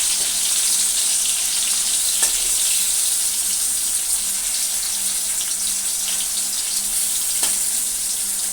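Pumpkin pieces fry in plenty of oil, giving a loud, steady hiss and sizzle that carries through the whole stretch with only a few small pops, and nobody speaks.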